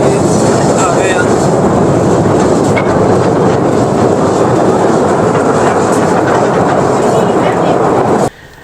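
A train rolls through the tunnels of the Khewra salt mine, a steady, loud, echoing rumble of wheels and cars that continues throughout and cuts off abruptly near the end, with voices faintly mixed in.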